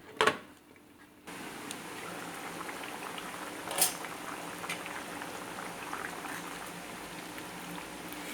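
Tomato and shallot gravy for a dry fish curry bubbles steadily in a covered pot, a soft continuous boil with a brief clatter near the start and no voices.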